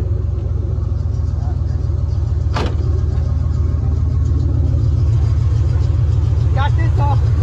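A Ford Mustang engine idles with its stock air intake, already warmed up, a loud, steady low rumble that holds evenly throughout with a brief sharp knock partway through.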